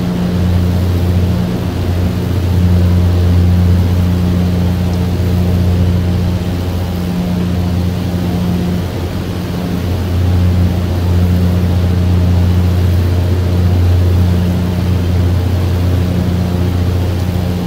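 A simulated Britten Norman BN-2 Islander cruising on autopilot in MSFS2020, its twin piston engines giving a loud, steady, low droning hum with a constant propeller throb throughout.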